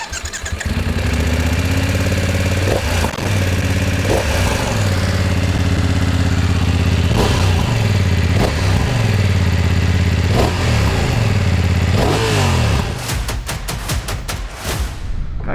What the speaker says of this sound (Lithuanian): paklausykite, kaip šis motociklas skamba